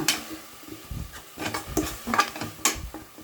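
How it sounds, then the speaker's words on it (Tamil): A chili powder mixture is sautéed in a pan, with scattered spoon scrapes and metallic clinks against the pan over a faint background sizzle, close and irregular. "பச்சை வாசனை போகிற வரைக்கும் நாம் வதக்கிக்கலாம்."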